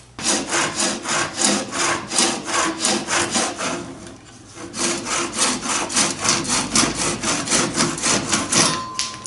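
A hand saw cuts steadily back and forth to trim the forward edge of a wooden boat's gunwale, with loud, rhythmic rasping strokes, a brief pause midway, then more even strokes, close and alone.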